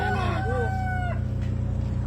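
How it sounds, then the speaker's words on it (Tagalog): A rooster crows loudly and close by in one long, rising and falling call over a steady low rumble, outdoors in the Philippines during an eruption of Taal Volcano. "Tandang."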